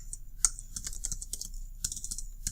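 Rapid clicking of keys on a computer keyboard, steady typing with brief pauses, close and fairly quiet.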